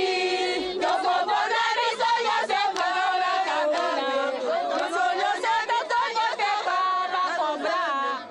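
Paid women sing in chorus to welcome officials and a rebel leader, their loud, steady, overlapping voices filling the air amid a crowd with no pauses.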